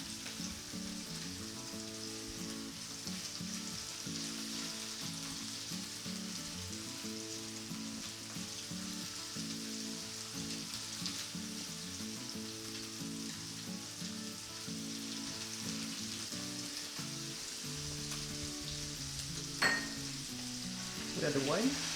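Garlic tiger prawns fry steadily in a hot pan, a continuous close sizzle with occasional stirring scrapes and a couple of brief clinks near the end, no voices.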